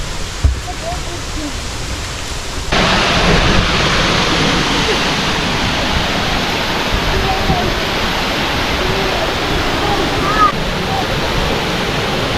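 A waterfall roars from the top of the falls at a cliff edge, a loud continuous broadband rush that swells louder after a few seconds and holds steady, with faint wind buffeting.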